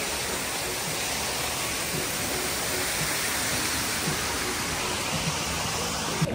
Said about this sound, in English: This is quite cool here, you got a waterfall